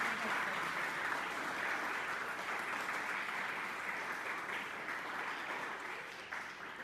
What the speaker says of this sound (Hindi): आप सब अपने लिए एक बार तालियां बजाइए।